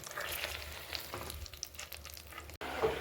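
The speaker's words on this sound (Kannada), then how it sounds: "ಬೆಣ್ಣೆ ಕರಗೋವಾಗೂ ಹೈ ಫ್ಲೇಮ್ ಇಟ್ಟಿರ್ತೀನಿ" Butter melting in a pan over a high flame while making ghee: a steady, close crackling sizzle with faint scraping from stirring, then a brief cut before the frying resumes.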